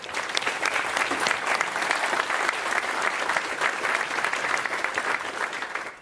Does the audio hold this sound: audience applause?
yes